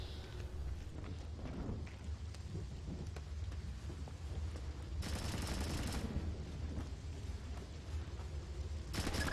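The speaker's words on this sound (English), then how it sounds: "I'm hearing gunfire down there, Fisher." Sharp bursts of rapid gunfire in Splinter Cell: Chaos Theory, on the Lighthouse mission, crackle over a low rumbling background, coming in two distinct volleys with quieter stretches between.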